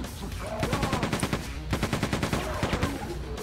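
Rapid machine gun fire in the video game Quake 2, two long bursts of fast rhythmic shots with a brief gap between them, loud and close over busy game sounds.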